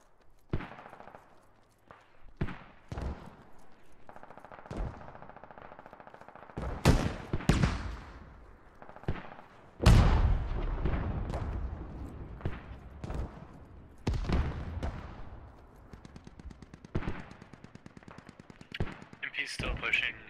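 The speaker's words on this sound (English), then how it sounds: "I hear their mortar habits on the northwest of the city." Distant mortar impacts and scattered gunfire in the video game Squad, with sharp cracks and booming blasts at irregular intervals, one heavy explosion near the middle, spread across a quiet battlefield backdrop.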